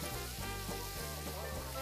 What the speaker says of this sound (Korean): 지글지글 잘 구워진 삼겹살과 산마늘의 조화.